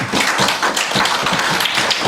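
A church congregation at a Christmas celebration service claps together, a loud, fast run of many hands with individual slaps standing out in a busy rhythm.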